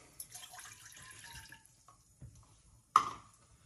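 A cup of water is poured into a saucepan on a stove, making a faint, soft trickle that fades out, followed after a short pause by a brief splash or clink.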